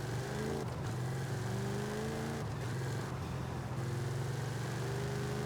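An Audi in Forza Horizon 5 cruises along a highway, its engine a steady, droning hum that holds at a moderate level for several seconds with no talking.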